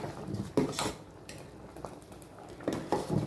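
Spoon stirring milk semiya payasa (vermicelli kheer) in a large pot, giving a few soft scraping clinks against the metal, close and fairly quiet, with a pause in the middle.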